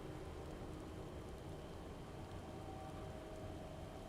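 Falling rain in the Final Fantasy 14 video game, a dense, steady hiss of rainfall that stays even and fairly quiet throughout with no voices.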